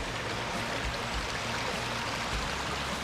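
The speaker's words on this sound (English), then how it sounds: "It's a nice little waterfall up here as well." A small waterfall in a South Wales landscape produces a steady, broadband rush of falling water that fills the whole span evenly and alone, with no voices over it.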